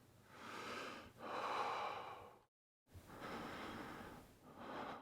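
Heavy, emphasized breathing for a fighter in a fight scene, two long close exhalations with a gasp-like edge, a short silent gap, then two more strained breaths, alone and intimate.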